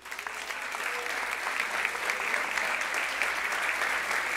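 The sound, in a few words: church congregation applauding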